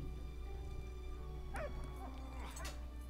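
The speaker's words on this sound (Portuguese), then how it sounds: "O Bud é o cachorro, tá? É o dog" A dog in the video game Valiant Hearts gives a few short, faint barks and yips over steady game music and background hum, with no talk.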